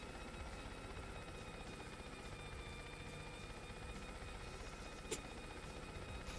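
Steady rhythmic whir of helicopter blades in the video game Yooka-Laylee, a continuous droning chop with faint tones running through it, constant and unbroken apart from one brief click.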